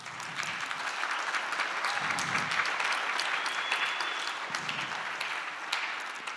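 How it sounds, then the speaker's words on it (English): An audience at a panel discussion in Hamburg on colonial history applauds an Ovaherero activist, with steady, sustained clapping filling the room for several seconds at a moderate distance. "I would like you to give an applause for him"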